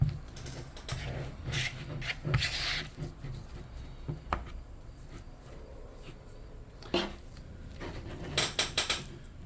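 Almond flour and avocado oil crust being stirred in a bowl for a keto strawberry cheesecake, a steady close scraping and tapping of utensil against the bowl with occasional sharper clinks.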